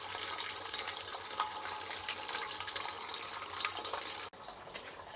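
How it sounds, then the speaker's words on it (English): Water running from a tap into a container for a karahi pot at an outdoor cooking fire, a steady close hiss of pouring liquid that cuts off abruptly near the end, with no talk over it. "We're filling some more water"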